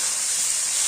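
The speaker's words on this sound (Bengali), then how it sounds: "একটু তেল ভাজছে, খুব তেল ভাজছে" Oil sizzles hard in a pan over a clay stove while beef tripe and liver cook, a loud, steady, bright hiss that holds without a break.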